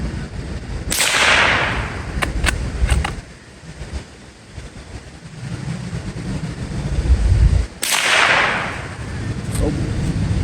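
A Remington Model 512 Sportmaster rifle fires two sharp, loud shots several seconds apart, each a broadband crack with a short decay, over steady outdoor background noise.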